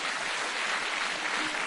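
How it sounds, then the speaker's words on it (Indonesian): Brief, even applause from a crowd at an Indonesian presidential inauguration event, a continuous hiss of many hands clapping at moderate distance and fairly faint level, with no talk. "tepuk tangan nih buat Pak Suparto"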